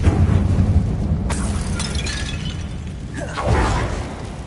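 A Confringo blast spell cast in a Harry Potter wizarding video game, sounding as a loud booming burst with a whooshing crackle, then a second softer rumbling burst a few seconds later, no voices.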